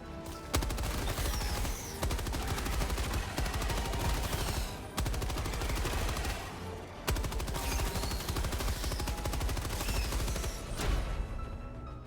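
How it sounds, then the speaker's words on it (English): Sustained automatic fire from an LMG machine gun in Helldivers II, dense rapid bursts running almost continuously with two brief pauses, loud and close with no talk. "So let's see some LMG action."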